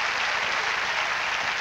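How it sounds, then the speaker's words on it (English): A congregation claps together at a Christian gathering, a dense even wash of hands with no pause and no talking. "Give him a hand clap."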